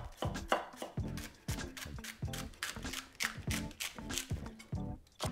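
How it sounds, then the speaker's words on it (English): A knife chops spring onions on a cutting board in quick, regular, close strikes, with no talking over it. "We've got some spring onion over here. Just gonna take our ends off. And we can just cut these at a slight angle."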